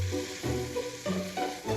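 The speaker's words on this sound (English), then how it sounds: "sizzling away here" Browned lamb stew with its juices sizzles and crackles in a hot pan while being stirred, a close frying hiss that swells in short uneven bursts.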